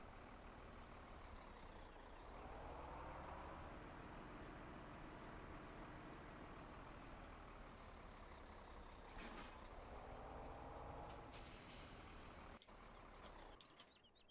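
A heavy truck in Farming Simulator 17 drones with engine noise, easing down with two rising-and-falling pulls. Air brakes hiss sharply near the end, followed by short bursts.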